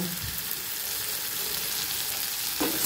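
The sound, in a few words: potato and bitter gourd frying with turmeric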